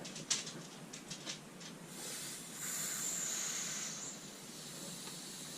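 Pressure canner releasing steam as its weighted gauge is lifted off, starting with a few sharp clicks of the gauge, then a soft, steady hiss that swells and continues, quiet and close with no talking.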